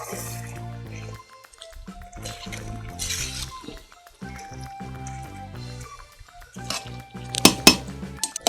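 Metal pot lid and utensils clattering while chicken biryani is sealed for dum cooking, a few sharp clinks and scrapes between quieter pauses, with a brief bright rattle near the end.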